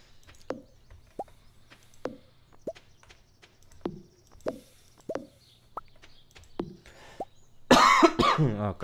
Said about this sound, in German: Oh Gott, mein Husten.